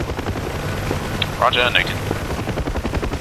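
A helicopter in the DCS flight simulator drones with a steady, loud rotor and engine rumble throughout, while a short radio voice reply comes over the top.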